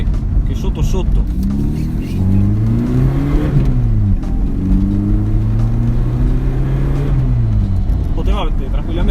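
Volkswagen Golf GTI Mk2 with a 1.8 110 hp engine revving, rising and falling in pitch through several sweeps, loud and close, with someone talking over it throughout.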